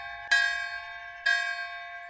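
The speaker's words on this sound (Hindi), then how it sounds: "रात को गांव के मंदिर में घंटियां बजने लगी।" A village temple bell rings twice at night, two clear metallic strikes about a second apart, each leaving a long ringing tone that fades slowly, heard alone.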